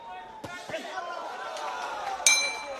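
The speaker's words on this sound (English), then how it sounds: "And there goes the bell." A boxing ring bell clangs to end a round at a men's world boxing championship bout, a few sharp metallic strikes with a ringing tail over a murmuring arena crowd and commentary.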